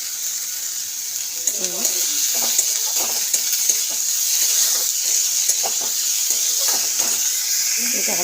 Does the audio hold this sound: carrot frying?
yes